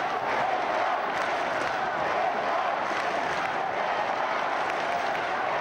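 A large stadium crowd at a 2000 AFL football match between Carlton and Brisbane roars and applauds after the first goal of the quarter, a dense, steady wall of cheering that holds loud throughout.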